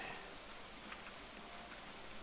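Steady rain falls in the survival video game Grim Soul, a dense, even hiss of drops on surfaces running throughout with no pauses or distinct thunder.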